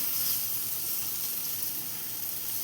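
Fish being laid into a hot pan of oil for Gulivinda fish curry sizzles with a steady, close, loud frying hiss that stays even throughout, with no talking.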